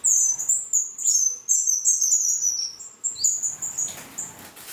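Aviary birds chirping continuously, a dense run of high bright tweets and calls close by, overlapping in quick phrases with no one talking.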